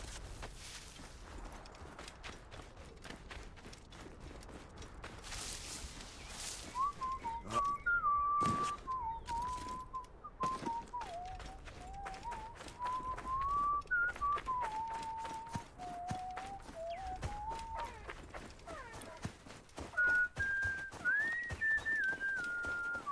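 Someone whistles a wandering melody in the video game Assassin's Creed Origins, mid-pitched and clear, over thudding footsteps and scattered knocks with light background ambience.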